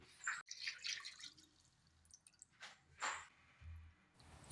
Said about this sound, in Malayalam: ഇനി ഇതിലേക്ക് നമ്മൾ വെള്ളം ഒഴിച്ചു കൊടുക്കുകയാണ്